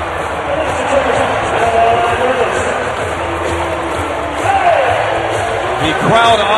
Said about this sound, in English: The crowd obviously loves it.